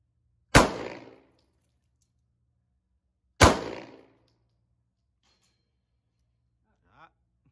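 Two sharp, loud shots ring out about three seconds apart from a SIG P226 Extreme pistol at a shooting range, each with a short decaying echo, followed by quiet and a faint brief voice.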